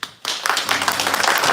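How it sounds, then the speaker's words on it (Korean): A church congregation breaks into clapping for a guest after a short quiet moment, a dense patter of many hands that builds and stays steady and close. "박수 한번 하겠습니다"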